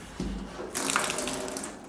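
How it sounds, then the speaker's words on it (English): Water pours from a ceiling spout into a hot tub or bathtub, a soft splashing rush that swells partway through and runs on moderately loud. "That's a flex when your water comes out from the ceiling."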